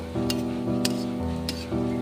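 Raw soybean fritters deep-frying in hot oil produce a loud, continuous sizzle, with occasional sharp pops and crackles rising above it.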